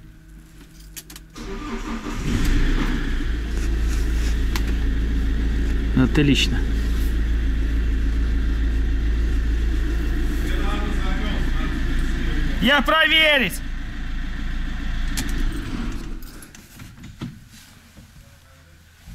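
An old Volga's engine runs at a steady low idle while warming up, close and continuous, with brief sounds of movement and short bursts of talk around it.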